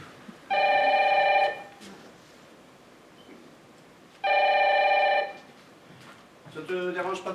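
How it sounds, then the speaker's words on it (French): A home telephone rings twice with a bright electronic trill, each ring about a second long and separated by a pause, followed by a brief voice. "Ça te dérange pas trop là, sonnerie du téléphone?"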